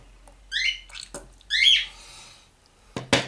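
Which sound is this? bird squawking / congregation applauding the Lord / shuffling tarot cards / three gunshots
bird squawking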